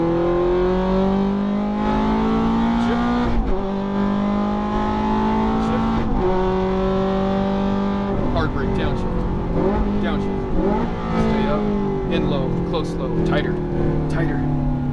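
A Ferrari F430 on a race track revs up through the gears, its engine note climbing and dropping with each shift, while an instructor speaks over it throughout.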